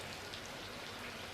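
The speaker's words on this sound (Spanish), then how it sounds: "empieza a llover" Rain falls as the rainy season begins, a soft, steady hiss of drops on a surface, faint and even throughout the short stretch.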